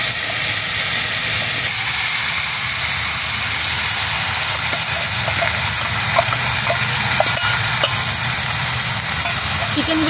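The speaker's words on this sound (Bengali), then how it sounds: "ম্যারিনেট করা চিকেনগুলোকে তেলের মধ্যে দিয়ে দেবো" Marinated chicken fries in hot oil with five-spice for a Bengali deshi murga curry, giving a steady, loud, unbroken sizzle and hiss that lasts the whole stretch.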